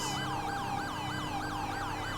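European-style emergency vehicle siren from a police patrol in the GTA V LSPDFR game, a continuous rapid warbling wail that sweeps up and down steadily, loud and close, with no talk over it.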